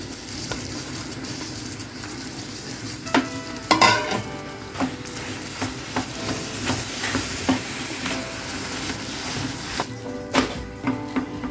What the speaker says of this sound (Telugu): ఇలా మొత్తం కలిసిపోయేలాగా మనం కలిపేసుకోవాలి